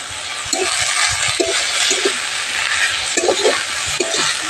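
Greens fry in a wok with salt, turmeric and whole chilies, giving a steady close sizzle broken by intermittent scraping and stirring clinks.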